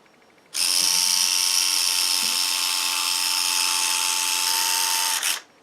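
Full metal retractable landing gear retracting, a steady high electric servo whine that starts abruptly, holds evenly for about five seconds and cuts off cleanly.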